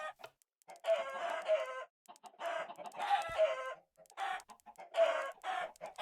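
Chickens in a Minecraft mob farm cluck in a steady series of short, close bursts separated by brief pauses, with no talk.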